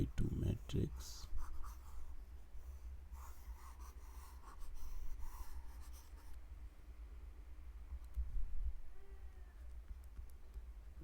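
Chalk or pen strokes on a board, scratching in short bursts and squeaks while someone writes out a matrix, with a voice talking intermittently and faint breathing.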